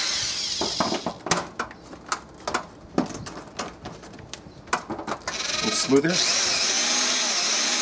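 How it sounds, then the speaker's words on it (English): A regular drill bit bores deeper into a damaged screw head, giving a series of short whining drill bursts at close range with pauses between, ending in a longer steady run; a voice speaks briefly. "I'm going to use a regular drill bit to make the hole deeper"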